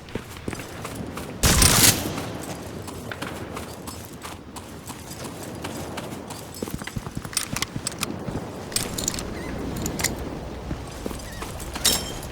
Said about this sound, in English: Man, machine gun in church tower.